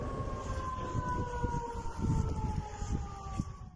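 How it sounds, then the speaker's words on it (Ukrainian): A steady wailing air raid siren for a missile alert drones on at one pitch in Belgorod, distant and outdoors, over rumbling low background noise. "сирена ракетної безпеки втретє за день звучала у Білгороді"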